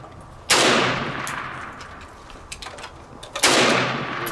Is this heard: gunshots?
yes